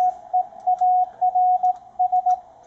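Clean single-tone beeps of Morse code from a Ten-Tec Omni VI radio through a Timewave DSP-9 noise reduction unit with 500 Hz filters, keyed in short and long bursts over a near-silent background, with hiss almost entirely removed.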